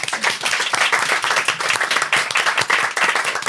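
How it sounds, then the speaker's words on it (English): An audience at a live panel discussion on working from home claps loudly and close by in a brisk, dense burst of applause lasting a few seconds. "A round of applause for the audience."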